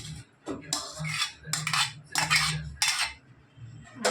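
Cooked Pune-style misal poured into a metal strainer, heard as a few separate bursts of clattering metal and scraping utensils up close.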